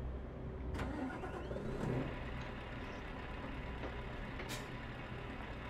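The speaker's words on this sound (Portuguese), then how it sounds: "bora ligar aqui o caminhão." A truck engine starts and settles into a low, steady idle in Euro Truck Simulator 2, with faint hiss bursts and a constant rumble, no talking.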